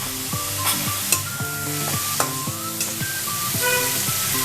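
Grated onion hits a hot pan for Bengali Amodi chicken, sizzling steadily while a spatula scrapes and stirs in repeated rhythmic strokes, close and clear.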